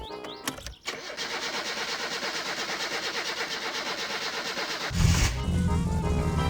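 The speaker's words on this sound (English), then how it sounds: "get the car running" A car engine in a video game cranks with a rapid rhythmic starter churn for several seconds, then catches and settles into a louder low idle.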